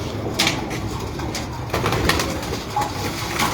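A breeder pigeon coos softly in a quiet enclosure, repeated low cooing mixed with faint rustles and brief flutters, with no talk over it.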